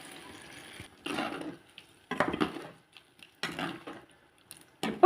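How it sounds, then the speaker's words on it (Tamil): Water is poured into a rinsed mixer grinder jar in a home kitchen, heard as several short bursts of splashing and sloshing with clinks of the jar between quieter pauses. "நான் மிக்ஸி ஜாரை கழுவி கொஞ்சம் போல் தண்ணி சேர்க்க போகிறேன்."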